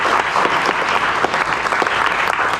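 Audience applause at a competition event, a sustained burst of clapping from a crowd, loud and even throughout.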